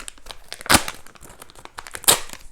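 A plastic bag from a sealed medical package is crinkled and then torn in half, with two sharp ripping bursts amid close, continuous rustling.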